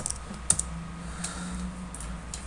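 Close-up typing on a computer keyboard: a quick cluster of sharp key clicks at the start, then a few scattered, lighter taps over a steady low background hum, with no voice.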